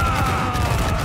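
Continuous rumbling cannon fire and crashing impacts from a naval sea battle in the video game Assassin's Creed Black Flag, dense and steady with no clear pauses.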